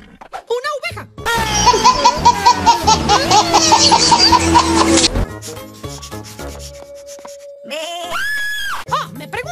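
A wavering, pulsing sheep bleat lasting several seconds, with excited voices talking around it.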